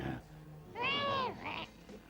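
A cartoon cat lets out a single drawn-out meow, loud and close, in a dubbed Smurfs animated episode, followed by a brief softer vocal sound.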